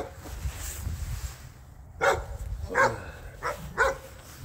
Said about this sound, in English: I feel bad for that little dog over there. All he does is bark.